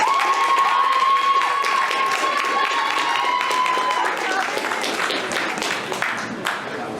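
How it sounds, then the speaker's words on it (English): Student debate audience giving the immigration debaters a round of applause, a full room of clapping with some cheering that holds steady and then thins out, with a brief tone at the start. "Can we give them a round of applause as well?"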